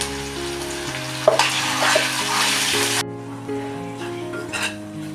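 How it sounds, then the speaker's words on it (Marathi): Ground masala paste for egg masala with cashews sizzles and spatters in hot oil while being stirred, loud and close for a few seconds, then quieter. "वाटण चांगलं मी परतून घेतलेलं आहे आणि चांगलं तेल पण सुटलेलं आहे"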